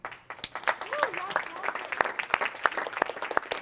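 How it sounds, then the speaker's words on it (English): A small audience at a community arts performance event gives sparse, scattered applause with distinct individual claps, as a voice briefly calls out over it. "we have to have a round of applause for our sponsors"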